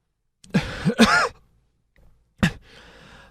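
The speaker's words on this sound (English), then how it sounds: "I've been coughing for 3 days" An adult's cough, a clear, close burst from someone feeling unwell after three days of coughing, runny nose and sore throat, with two quick hacks, a pause, then one more sharp cough and a breathy trail.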